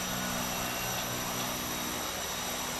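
Twin Otter twin turboprop engines running in a flight simulator game, a steady droning hum with a high whine on top, constant and close with no talk.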